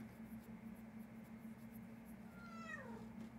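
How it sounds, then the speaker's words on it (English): A cat meows once, a short faint rising-falling call near the end over steady background hiss and a low hum. "did you hear my cat?"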